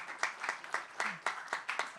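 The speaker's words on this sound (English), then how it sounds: "round of applause for PubKey" Sparse, rhythmic clapping in a hosted PubKey gathering, a few hands beating a steady pulse about four times a second, fairly close and moderately loud, with no talk over it.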